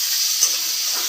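Potatoes frying in a pan over a gas flame give a steady, close, bright sizzling hiss that holds evenly through a brief moment.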